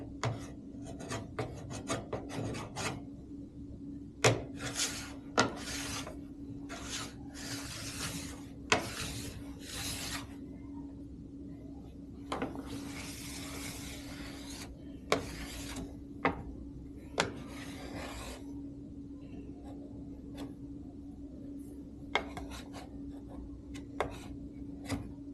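Wax is scraped off a ski in repeated rasping strokes, close and fairly quiet, with a steady low hum underneath and occasional small ticks between passes.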